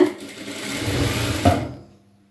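A sewing machine runs a short seam on a blouse. There is a brief, close, steady mechanical hum with a small knock partway through, and it fades out into silence.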